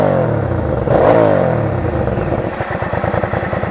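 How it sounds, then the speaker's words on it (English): A fuel-injected Hyosung GV650 motorcycle engine is revved once, swelling to a loud rising whine then dropping back to a close, lumpy, throbbing idle from the exhaust. "If I rev it up, it'll probably sound like crap"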